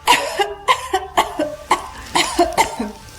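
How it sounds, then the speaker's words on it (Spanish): A person coughs repeatedly in short bursts, about nine harsh coughs in an uneven rhythm, close and fairly loud. "La tos de mi mamá me interrumpió de nuevo"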